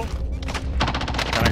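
AMAX rifle firing in a Call of Duty match, rapid automatic bursts that grow denser and louder toward the end, close and punchy over other game noise.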